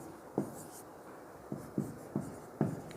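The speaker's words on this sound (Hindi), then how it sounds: "एक और लिखते हैं" Chalk or a marker taps and scratches on a classroom board in a few short, separate strokes, close by and fairly quiet.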